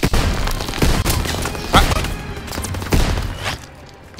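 Shotgun blasts and other gunfire in the World War II shooter Call of Duty: WWII, several loud booming shots at irregular intervals over a constant battle din.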